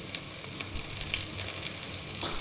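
Kashmiri chili powder with coriander, pepper and turmeric powders fries in a pan with a steady, close sizzle and soft crackling that holds evenly throughout, with no voices.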